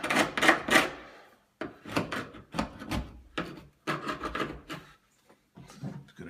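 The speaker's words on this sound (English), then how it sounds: "I'm going to take my chisel." A hand chisel trims and pares wood on an antique door, with a run of close, dry scraping and rasping strokes in short bursts separated by brief pauses.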